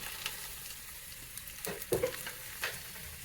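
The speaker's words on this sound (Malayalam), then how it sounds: "കുറച്ച് ഈ ചവ്വരിയുടെ പപ്പടം കൂടെ വറുത്തെടുത്തു" Sago papadams fry in hot oil, a soft steady sizzle broken by a few brief crackles and bubbling bursts, heard close up and fairly quiet.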